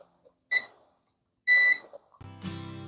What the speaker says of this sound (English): Set the timer for 10 minutes.